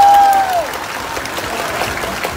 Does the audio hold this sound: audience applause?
yes